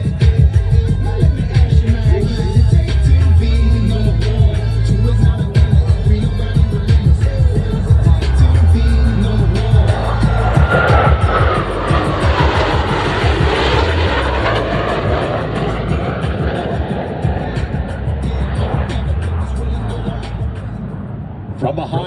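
Aircraft engines roar loudly and continuously overhead as airshow planes perform rolls, the sound sweeping and shifting in pitch as they pass, with an announcer speaking over a public address and crowd noise underneath.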